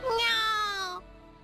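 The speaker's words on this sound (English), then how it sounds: "It's unmistakably that familiar meow." A single cat meow from the visual novel The Fruit of Grisaia, a clear falling, harmonic cry lasting about a second, close and fairly loud, then fading into quiet background with no talking.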